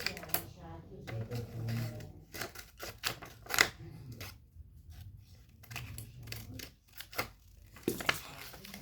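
Scissors snip repeatedly in short, crisp cuts at an irregular rhythm, close by, with a soft voice speaking faintly in between.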